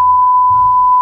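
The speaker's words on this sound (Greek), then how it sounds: "Εδώ είναι το κουμπάκι, το snooze" A steady, loud electronic beep sounds from the snooze button of an ARILUX sunrise simulation alarm clock, a single continuous tone held for about a second with no voices.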